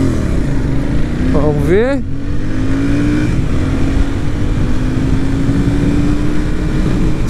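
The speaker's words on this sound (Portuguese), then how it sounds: "Vamos ver se a gente consegue fazer uma arrancadinha aqui, um 0 a 100" A Royal Enfield Super Meteor 650 motorcycle engine revs hard from rest in a 0 to 100 km/h run, climbing sharply through gears before settling into a steady, droning cruise; a voice speaks briefly at the start.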